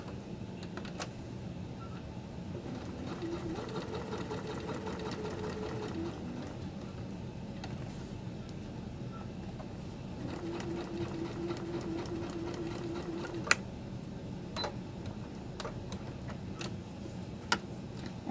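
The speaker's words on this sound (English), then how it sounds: "I'm just simply stitching around this to secure it all the way" Sewing machine stitching around a patch, running in steady rapid ticking bursts with short pauses between runs, close and fairly quiet.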